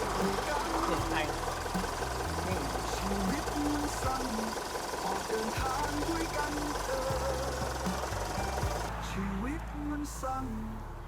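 A Mitsubishi Pajero engine idles steadily with a low, even rumble and faint ticking, continuous throughout with a slight shift near the end.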